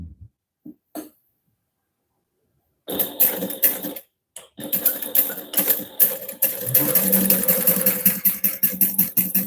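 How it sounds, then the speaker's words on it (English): A sewing machine top stitches along the card slots of a directional vinyl wallet with a 1/8 inch seam allowance, a close, steady mechanical whirring and rhythmic needle thumping that starts after a few quiet taps and runs continuously. "I'm going to top stitch along the top of the card slots using a 1/8 inch seam allowance."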